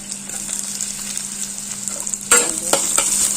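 Onion tempering sizzling in hot oil for cooking greens, a quiet hiss that suddenly bursts into loud, crackling frying partway through, with stirring noises and no talk.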